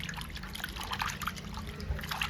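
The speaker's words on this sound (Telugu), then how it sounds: "ఈ విధంగా కడుక్కోవాలి అండి చేపలు. మనం చల్లటి వాటర్లో వేస్తే పోవండి" Pieces of dried fish being washed in cold water for a tomato curry, with a steady close trickle and splash of water that runs continuously throughout.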